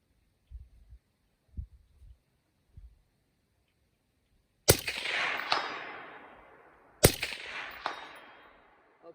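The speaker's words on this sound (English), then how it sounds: "I'm going to start shooting up to 200." Two sharp suppressed rifle shots fired at a 200-yard target, each a loud crack followed by a decaying wash, spaced a couple of seconds apart after some faint low thumps.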